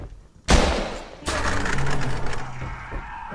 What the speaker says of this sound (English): I might use my gun to open this up.